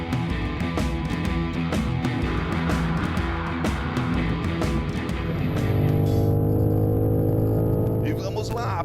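A 600 hp sedan accelerating flat out around the Interlagos circuit, its engine roaring loud and continuous with rising harmonic pitch through gear changes, a voice talking over it throughout.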